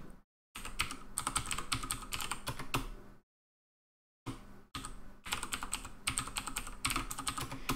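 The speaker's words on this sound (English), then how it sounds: "You guys all get to hear my wonderful keyboard." Fast, clicky typing on a computer keyboard, close up and steady, stopping briefly for about a second before the rapid keystrokes resume.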